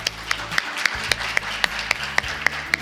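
Audience applause at a startup pitch and awards ceremony, a steady patter of many hands clapping with sharp individual claps standing out, continuous and moderately loud for a few seconds.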